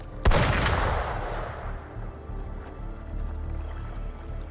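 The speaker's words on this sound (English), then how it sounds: "Gunfire! We've got intruders." A single sharp gunshot cracks loudly near the start in the video game Wuthering Waves, then decays into a long echoing tail over quieter ambient game sound.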